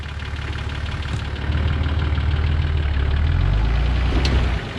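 A Toyota Hilux LN106 ute, twin locked on 37-inch tyres, rumbles at low revs while creeping down a rocky off-road track, a steady close engine drone that swells briefly, with no talk.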